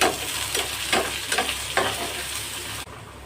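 Ginger-garlic paste sizzles in hot oil for a tempering, a steady crackling fry broken by a few stirring swishes, close and fairly loud, before the sound drops off sharply near the end.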